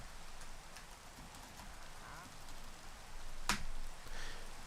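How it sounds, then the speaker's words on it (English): Steady rain falls in Minecraft, a soft continuous hiss filling the background with a brief sharp click partway through and no talking. "now it's raining"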